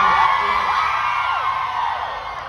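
A lively crowd at a concert at Summerfest 2022 cheers and whoops, high excited voices overlapping in a steady roar that stays loud throughout.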